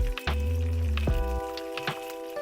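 Tomatoes sautéing with masala in a pan for paneer butter masala, a soft, close sizzle with occasional wet crackles under a steady low hum of background noise.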